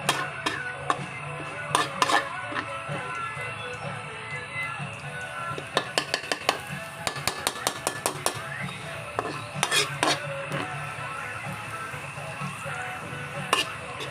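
Garlic sautés in a pan for spaghetti, a soft sizzle under repeated scraping and clinking as a utensil stirs against the metal, with the strokes coming in irregular clusters.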